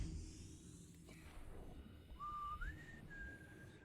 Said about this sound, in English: I'm not used to people actually being able to hear me whistle.